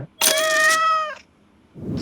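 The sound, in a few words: pet cat meowing in a cat café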